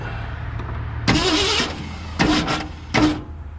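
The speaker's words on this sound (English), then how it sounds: "I can do that just by bumping the starter" Starter on a 1968 Ford F100 is bumped three times over an idling background hum, each short burst of cranking loud and close, the first about half a second long and the later two briefer.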